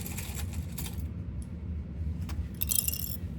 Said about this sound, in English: Let me get a couple clips.